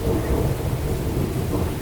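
A thunderstorm roars with a steady heavy wash of rain and deep rumbling thunder, dense and continuous throughout with no voices.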